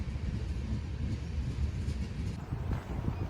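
A train passing very close by near Skykomish, heard as a steady, loud, broadband rumble and rattle of railcars with some wind noise throughout and no talking.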